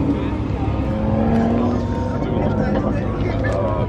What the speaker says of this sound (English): Big ol' exhaust.